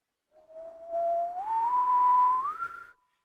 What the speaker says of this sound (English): I'm noticing I'm whistling better right now